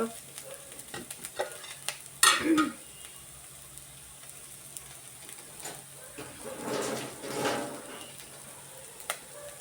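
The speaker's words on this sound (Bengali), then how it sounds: "এই দেখো এরকম করে ভাজিয়ে নেবে, মানে ভাজিটা সুন্দর করে করতে হবে" Close frying sizzle runs throughout while a utensil stirs and scrapes the pan in bursts, including one sharp clank; no talking.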